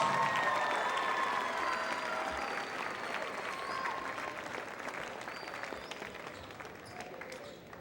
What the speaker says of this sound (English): how about a nice round of applause for the South Kitsap Wolves, class of